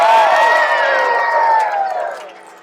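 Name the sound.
camp crowd cheering at a lumberjack show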